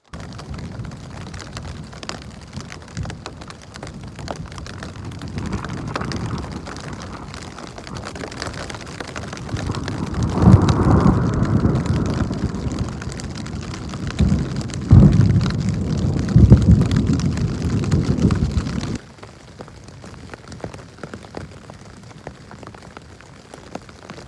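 Steady rain pattering on a tent during a solo canoe trip in Woodland Caribou Provincial Park, a continuous close drumming that swells louder midway with heavier bursts, then drops to a lighter patter at the end, with no talking.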